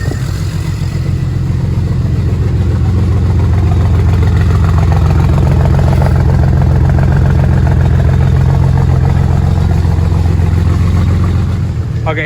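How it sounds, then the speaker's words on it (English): A BMW 335i engine idles steadily, a loud, close, even low rumble with a constant mechanical hum throughout and no change in pitch. "It's idling pretty smooth."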